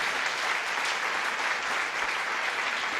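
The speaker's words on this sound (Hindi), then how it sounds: "एक बार जोरदार तालियां बजा दीजिए।" An audience claps loudly after a Hindi poem recited by poet Upendra Arpan, a dense and even wash of applause that holds steady with no voices over it.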